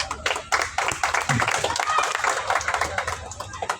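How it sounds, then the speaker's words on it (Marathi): An audience claps together at a birthday celebration for senior citizens, a dense burst of applause filling the clip, with a voice speaking over it. "आपल्या सगळ्यांना दिसत असेल तर टाळ्या होऊन दे"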